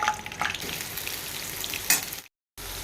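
Sliced bitter gourd sizzling in a generous amount of hot oil in a pan on a stove, a steady close frying crackle with brief stirring clatters, cutting out abruptly near the end before resuming.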